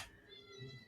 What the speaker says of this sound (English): it's such a whiny meow